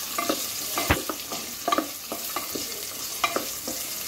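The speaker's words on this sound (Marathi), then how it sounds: "कांदा चांगला गोल्डन फ्राय करून घ्यायचा मस्तपैकी" Sliced onion frying in a pan for spinach khichdi, with a soft sizzle under repeated close scrapes and clicks of a spatula stirring at an uneven pace.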